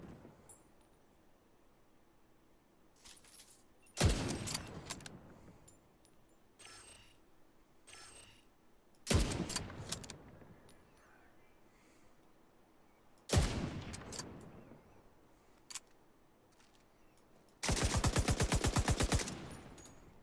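Gunfire in a VR shooter game: four sharp loud bursts a few seconds apart, the last a rapid automatic rattle lasting about two seconds, with quiet ambient game noise between them.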